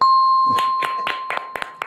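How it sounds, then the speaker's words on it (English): A few scattered, thin claps from a small audience, quiet and brief, following a steady electronic tone that fades out at the start. "We are giving a round of applause here"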